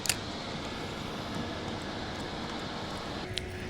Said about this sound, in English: hopefully this tractor going behind me isn't going to foul up our audio too much